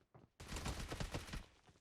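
Rapid gunfire rattles out in a dense, loud burst lasting over a second during a PUBG Mobile match.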